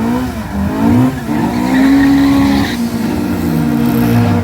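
Race cars drag racing at Killarney, including Mk1 cars, a Conquest and a VTEC EG, with loud sustained engine howl, shifting pitch and tire squeal close by, no talk over it.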